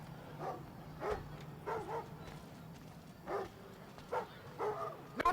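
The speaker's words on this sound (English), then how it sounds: "we also have next-gen dogs." Dogs bark in the video game Thief, with about eight sharp, separate barks spaced irregularly over a quiet low hum, fairly faint overall.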